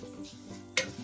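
Faada lapsi, broken wheat, roasting in a pan as a spoon stirs it, soft dry scraping with one sharp clink against the metal, close and brief, no voices.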